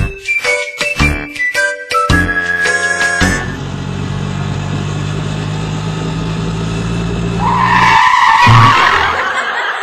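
Tires screech loudly as an auto rickshaw skids to a stop on a street, a sustained squeal following a burst of bright jingling music, with a brief voice near the end.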